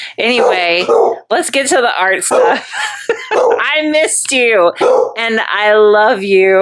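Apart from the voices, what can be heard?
dog barking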